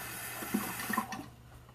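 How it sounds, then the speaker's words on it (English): A cup of water poured into a pan of simmering chicken gravy: a close, soft splashing pour lasting about a second before it trails off into quiet. "I'm going to add another cup of water because the gravy's getting a little thick."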